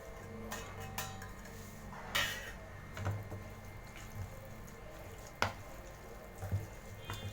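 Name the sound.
mixing curd rice with coriander leaves in a vessel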